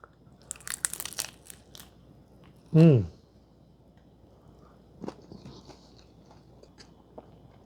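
Crisp crunches ring out as someone bites into baked chicken tacos, close and sharp in a short burst, followed by a hummed vocal sound and a few softer chewing crackles in a quiet room.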